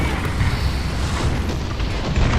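Artillery strike in War Thunder: a steady, rumbling low boom with crackling debris, sounding like a sustained distant barrage rather than a single sharp blast.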